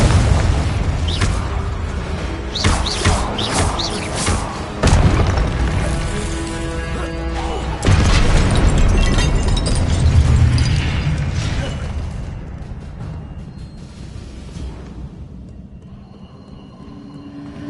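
An Incendio fire spell is cast in Hogwarts Legacy, with loud whooshing bursts and booming blasts of flame followed by a long rumbling roar that gradually fades.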